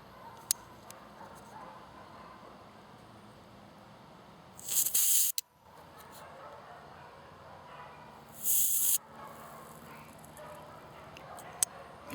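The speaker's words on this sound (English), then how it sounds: "When you hear the gas go psst, or whatever, continue to tighten so that it'll stop." A CO2 cartridge being tightened into an M1911 airgun, with two short, loud bursts of escaping gas hissing amid quiet handling noises and faint clicks.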